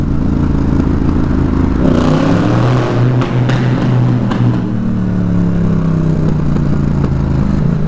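A Yamaha Tracer 700 motorcycle engine revs hard and loud up close, its pitch climbing and falling through several throttle sweeps with a rough mechanical rumble underneath.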